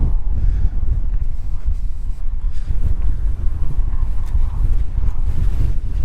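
Steady, heavy wind roars and buffets the microphone with a dense low rumble, constant for the whole stretch with no talking, at a dusty viewpoint in Ürgüp, Cappadocia, Turkey.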